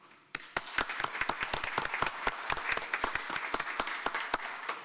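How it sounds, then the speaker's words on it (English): A crowd at a county supervisors' meeting applauds steadily for several seconds, a moderately sized room's worth of clapping without voices. "I'd love for all of us to give them a round of applause."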